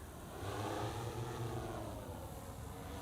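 A DJI M300 drone flying out and away, a steady low propeller hum and whine, faint and distant, continuous for the whole stretch with no voices.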